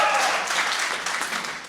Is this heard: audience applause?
yes